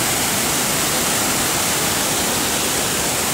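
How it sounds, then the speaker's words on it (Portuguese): A waterfall in the Serra da Bodoquena forest roars as a steady, loud, broadband rush of falling water that continues unbroken throughout. "Olha a cachoeira."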